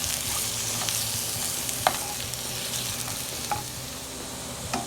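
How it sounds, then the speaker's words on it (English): Mushrooms fry in hot oil in a pan with a steady, soft sizzle, broken by a few faint clicks of stirring and no talking. "Sizzle here and there."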